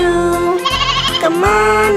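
Sheep or lamb bleating in a children's song, the wavering bleats loud and close over a steady musical backing with harmonic tones.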